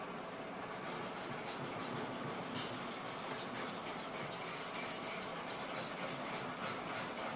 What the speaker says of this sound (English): I'll just press the metal down to the stone, just to clean it up a bit.